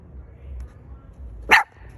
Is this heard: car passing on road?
no